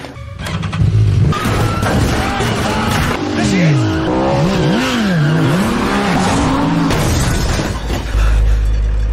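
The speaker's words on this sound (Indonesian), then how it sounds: "Ethan dan Benji segera mengejarnya naik mobil, namun mereka juga dikejar dan ditembaki oleh kroco-kroco tersebut." A movie car chase with tires squealing in long sweeping skids, engines roaring and loud crashing impacts, an intense, dense and close mix of racing vehicles.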